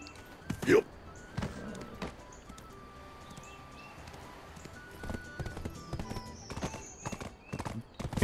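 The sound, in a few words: horse hooves clip-clopping in video game Black Desert Online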